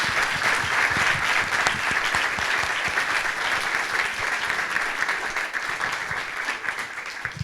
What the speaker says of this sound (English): let us give a huge round of applause for Dr. Beverly